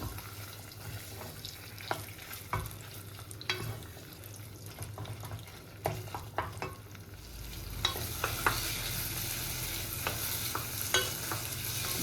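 Food frying in a pan, with a tomato sauce about to go in, is turned and stirred, a steady sizzle underneath and repeated scraping knocks of the utensil against the pan, close and clear.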